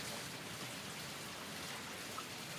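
Running water rushes in a soft, even hiss outdoors, a faint, continuous wash with no break and no voices.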